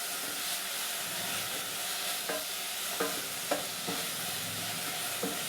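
Tomato and curry leaves sauté in a hot pan for Tamil-style fenugreek-leaf tamarind curry, a steady close sizzle and hiss broken by several sharp stirring scrapes of a spoon against the pan.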